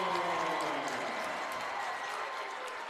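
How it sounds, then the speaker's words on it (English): A crowd at a boys' high school basketball final cheers and applauds, a dense, steady roar of clapping and voices that stays loud throughout and eases only slightly toward the end. "And the crowd is energized and they're feeling it."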